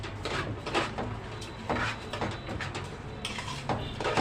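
Rice tossed and stirred with tomato sauce in a cooking pot gives repeated close scrapes and metallic clinks of a spoon on the pot in an uneven rhythm, steady and moderately loud, with no talk.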